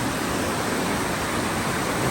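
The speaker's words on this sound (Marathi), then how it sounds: "आणि बघा पाण्याचा आवाज" Rushing water pours steadily at the Kemburli waterfall, a dense, continuous roar that fills the whole clip with no pauses and no voices.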